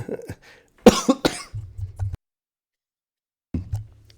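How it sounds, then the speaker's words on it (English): A short fit of two or three harsh coughs close to the microphone, with a person talking before and after, then silence. "Excuse me, I still have this cough."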